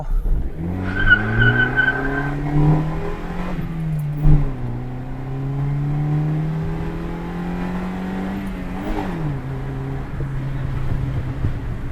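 A 23-year-old Honda City Type 2 car drives on a wet road, its engine droning with clear rising and falling pitch as it accelerates and shifts, heard alone at moderate distance with no talk.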